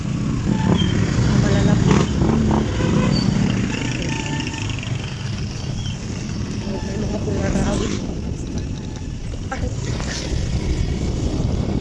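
Vehicles pass on a road beside a lake, a continuous rumble of engines and wind buffeting the microphone, swelling and fading as they go by, with people talking over it.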